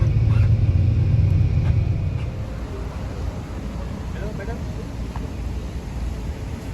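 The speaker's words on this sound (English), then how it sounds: "So Captain going to park the bus now." Tour bus engine idling and rumbling while parking at the Tugu Negara War Memorial in Kuala Lumpur, Malaysia, a steady low drone that eases slightly after a couple of seconds.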